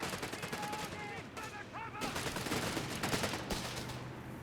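Machine-gun fire in Company of Heroes 3 during a 4v4 match: sustained rapid bursts of rattling shots, with a caster talking over the gunfire throughout.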